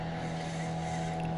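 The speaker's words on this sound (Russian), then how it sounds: "А моторка пошла." A motorboat passes on the water during spring fishing from an inflatable kayak, its engine a steady, even drone that holds throughout the moment.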